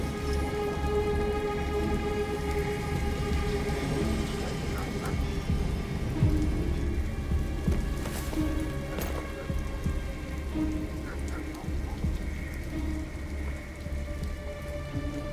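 A heavy rainstorm in Detroit: Become Human, dense steady rain pattering on surfaces with low rumbling thunder rolling underneath, continuous and loud with no talk.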